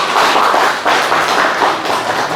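Church audience giving warm applause to welcome a pastor coming forward for a special hymn, a dense, loud, sustained wash of many hands clapping in a large hall, with no talk over it.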